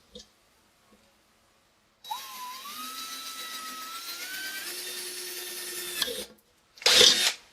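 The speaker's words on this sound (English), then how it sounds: "I'm just going to drill a simple hole right here in the bottom" A power drill bores a hole through the bottom of a metal pie pan: a sustained high whine that climbs in pitch as it bites through, stops, then a short loud clatter follows.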